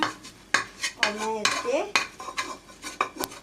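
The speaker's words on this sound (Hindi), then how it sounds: "ये अब मैं इन्हें सब चीज़ों को मिक्स कर रही हूँ" A spoon clinks and scrapes against a bowl while flaxseed ladoo ingredients are mixed together, in a run of close, irregular metallic taps and stirs, with a few words spoken softly over them.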